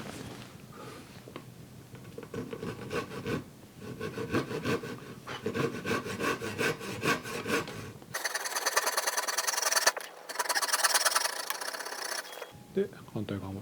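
A Japanese hand saw rip-cuts wood for a carpentry joint, with steady rhythmic push-pull rasping strokes, close and loud, pausing briefly before a brighter, faster stretch of sawing.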